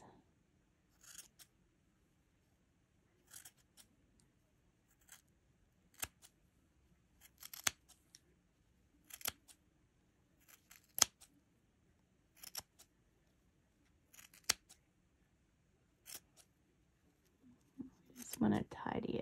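Scissors trimming the loose yarn ends on a small crochet doll poncho: crisp, close snips spaced a second or two apart in a quiet room, with a soft voice talking briefly in between.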